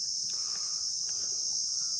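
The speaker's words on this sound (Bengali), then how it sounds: "চারিদিকে ঝিঝি পোকা, এই গরমে ঝিঝি পোকার কলরব" Crickets chirp in the hot Sundarbans forest, a steady high-pitched drone running unbroken through the whole stretch, with a few faint scattered calls beneath it and no voices.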